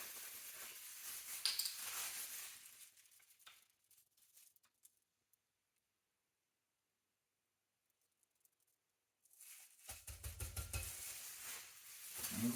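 A spoon stirs chocolate ice cream base with vanilla for thin mint cookie ice cream, giving close scraping and swishing bursts at the start and end with a silent stretch between.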